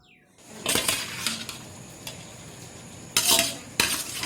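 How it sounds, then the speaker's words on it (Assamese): Chicken meat goes into a pot of curry base, with a few sharp metal clinks of a spoon against the pot and brief sizzling bursts between quieter stretches, no talking. "সিজাৰ পিছত আমি এতিয়া মাংসখিনি দি দিম।"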